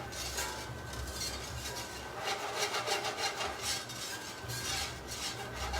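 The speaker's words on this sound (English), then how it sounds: "And then we're just going to whisk it around." A whisk scrapes and swirls rhythmically through sauce for smothered chicken in a pan, a soft, steady rasping stir in gentle surges, with no talking over it.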